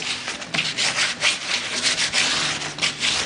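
Chalk paint being rubbed back along wooden edges for a distressed rust effect, a steady close scuffing and rasping in quick back-and-forth strokes, moderately loud with no speech.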